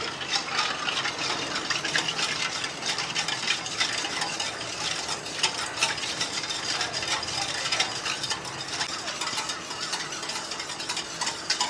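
Sugar and salt stirred into a mixture, a steady close scraping and swishing with a faint rhythmic texture that runs unbroken throughout, no voices.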